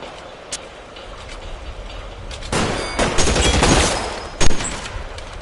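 Gunfire in the video game L.A. Noire, a burst of rapid overlapping shots that grows louder midway and ends with a sharp, loud crack near the end.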